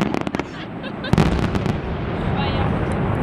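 Fireworks bursting at a castle display, a rapid cluster of sharp cracks and pops followed by a louder boom and lingering crackle, with people talking nearby.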